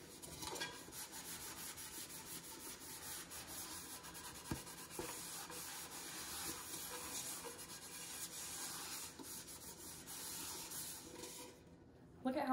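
Hands scrubbing with a big glob of hand sanitizer to remove red residue, a steady rough rubbing that runs continuously at close range and breaks off briefly near the end.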